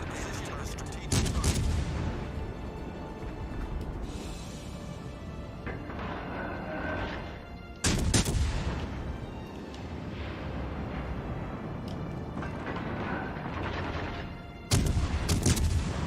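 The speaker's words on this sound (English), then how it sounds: "I'm drawing fire from the Amagi" Heavy naval gunfire from the Amagi battleship in World of Warships, with three big booming salvos spaced several seconds apart over a constant low rumble of battle noise.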